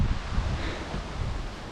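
Steady wind buffeting a microphone outdoors on a hike near Trenčín, Slovakia, a continuous low rumbling roar with a breathy rustle, loud and unbroken throughout.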